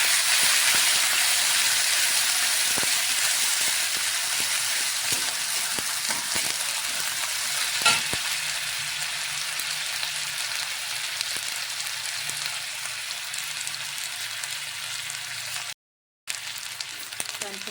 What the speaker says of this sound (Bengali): পেঁয়াজটা আমার ভাজা ভাজা হয়ে চলে আসছে, এরপরে দিয়ে দিব এতে রাখছিলাম যে পেঁয়াজ বাটা,